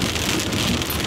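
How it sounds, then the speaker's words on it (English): Steady rain falls outdoors as a dense, even hiss of drops hitting surfaces, continuous and fairly loud with no voices over it. "it's raining, but you know, it's okay"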